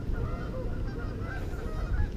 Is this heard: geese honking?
yes